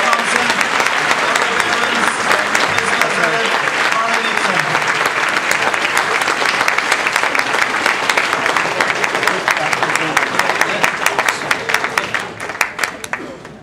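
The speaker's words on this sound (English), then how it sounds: "give them a big round of applause" A conference audience at a district international speech contest gives the contestants loud, sustained applause, thick crowd clapping with a faint murmur of voices underneath that thins into scattered claps near the end.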